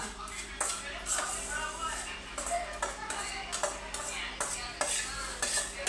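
A metal spoon scrapes and clinks against a pan while ingredients for chuda are stirred, irregular knocks and scrapes close by with a voice talking in the background.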